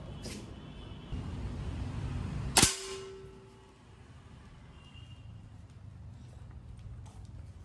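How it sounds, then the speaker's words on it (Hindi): A single sharp gunshot cracks once nearby during a target shooting challenge, ringing briefly before settling into low background noise, with no talking. "चलाओ चलाओ तीन शॉट हाँ"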